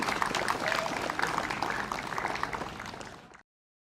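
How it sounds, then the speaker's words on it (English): Applause for girls from Meghalaya: a steady wash of crowd clapping, fairly faint and distant, fading out within a few seconds. "A huge round of applause, please, especially for our girls from Meghalaya."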